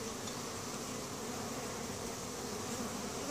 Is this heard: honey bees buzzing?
yes